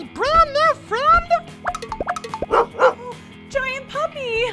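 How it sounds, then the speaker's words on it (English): A cartoon giant puppy yips and barks in a children's storytime show, with bright, high, rising yelps and barks repeating in quick bursts, close and loud, with a few whimpery notes between them. "Giant puppy, aw, kind of super cute"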